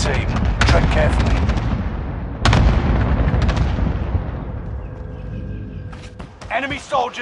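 Heavy gunfire and booming blasts in a multiplayer shooter video game, several loud bursts in the first seconds that fade into rumbling echoes, with a radio-style voice speaking near the end.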